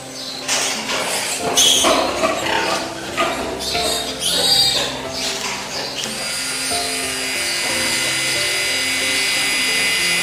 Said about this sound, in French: on va procéder à meuler les dents